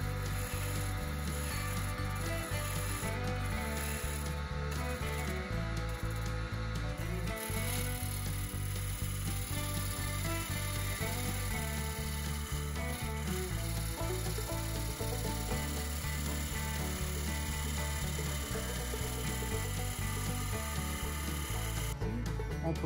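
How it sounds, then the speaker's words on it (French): A wood lathe spins a cherry wood platter while a bowl gouge, used as a scraper, rubs against the surface, giving a continuous rhythmic whirring scrape at close range. "On termine cette partie de la base en utilisant notre gouge à creuser comme une super racloir."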